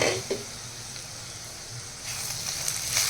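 Vegetable fried rice fries in a pan, giving a steady close hiss and sizzle with a couple of faint knocks.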